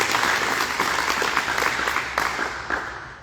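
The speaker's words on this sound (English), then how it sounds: "Let's give John a round of applause." A crowd applauds steadily for John, a veteran being honored at the Deer Park Veterans Memorial Service. The clapping is dense and even, then thins slightly toward the end.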